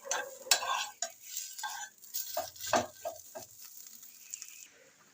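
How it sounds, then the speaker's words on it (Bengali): Gourd leaf paste stirred in a frying pan (kadai), with repeated scraping and soft sizzling strokes, close and fairly loud at first and then easing off toward the end, with no talking. "লাউ পাতা কড়াই থেকে উঠে যাচ্ছে"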